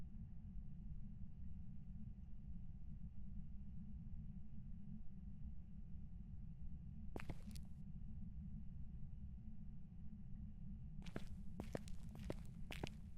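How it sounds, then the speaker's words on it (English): Footsteps from a ghost-hunting video game, faint intermittent clusters of steps heard at a distance over a steady low rumble with no speech. "I'm just hearing my footsteps."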